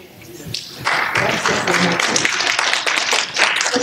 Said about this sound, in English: Let's give Anna a big applause